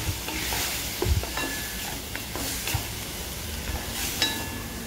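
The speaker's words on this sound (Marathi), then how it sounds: "हा मसाला चांगला असा परतून घ्यायचा आहे." Ground masala paste for green curry fish fries in oil, sizzling steadily while a spoon stirs and scrapes the pan in irregular bursts.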